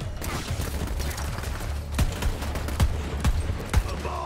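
A gun in the shooter Borderlands 3 fires a rapid volley of sharp shots. Several louder cracks stand out toward the end over constant in-game background noise, with no talking.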